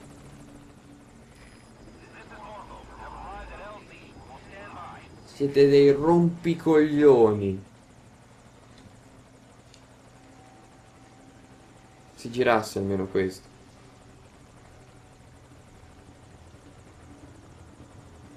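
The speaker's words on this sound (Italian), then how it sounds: "Ma no, c'è l'elicottero che mi aspetta!" Helicopter in the video game Metal Gear Solid V: Ground Zeroes, a steady rotor drone throughout with a voice talking over it in two bursts.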